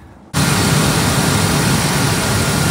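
A 1999–2005 Ford Excursion engine cranks and catches, then runs at a loud, steady idle roar that holds close and unbroken after the short quiet start.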